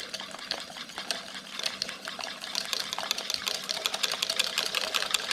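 Whisk beating coconut cream mixture in a bowl for a coconut-crusted redfish coating, a quick steady stream of close, fine clicking and scraping taps that grows slightly busier and louder throughout, with no talking.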